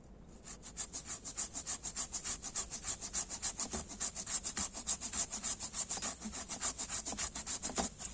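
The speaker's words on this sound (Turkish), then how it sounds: "Bu sebeple düşmesini istediğimiz yerin hizasına bir çentik açıyoruz testeremizle." A hand saw rasps rhythmically through wood, cutting a notch in a tree branch during pruning, quick steady back-and-forth strokes close by, with no talking.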